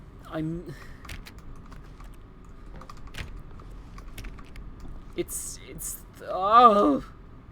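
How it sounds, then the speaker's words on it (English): Button presses in The Stanley Parable video game: scattered, crisp keyboard-like clicks and taps spread over several seconds, with a couple of short voiced bursts near the start and end. "Selection of sounds used throughout the game when buttons are pressed."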